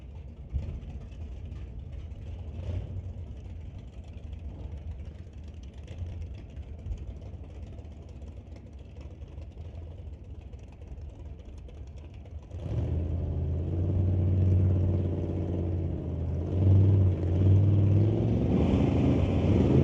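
1966 Chevy hot rod at a drag race, a low engine rumble that swells louder and rougher midway as the car revs, heard alone without talk.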